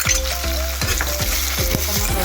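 Panch phoron spices, ginger, garlic and chili sizzling in hot oil for an Assamese pork curry, a loud, close, crackling fry with pops and stirring.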